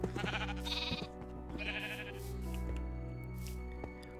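Minecraft sheep giving a few close bleats in the first half, then the game's steady background hum carries on alone.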